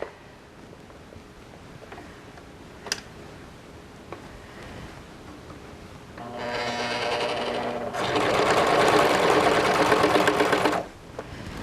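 A sewing machine stitches a princess-seamed western show jacket, starting with a few faint clicks and handling sounds, then running in two steady bursts that grow louder before stopping.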